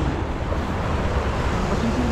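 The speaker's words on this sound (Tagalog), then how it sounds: "Lumakas yung tubig." Strong river current, a dense continuous rushing roar of fast-flowing water heard close and steady for the whole stretch, with faint voices underneath.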